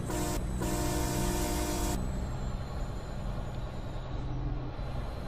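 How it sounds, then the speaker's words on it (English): A deep, blaring Peterbilt 357 truck horn in American Truck Simulator sounds in two long blasts over a steady engine rumble, then cuts off, leaving the engine droning on. "Honk honk."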